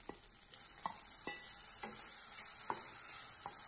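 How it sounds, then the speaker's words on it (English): Tomato and onions for yam sambar are stirred in a pan, a steady frying sizzle broken by regular, faint knocks and scrapes of a spoon, without any talking. "Give them all a good stir."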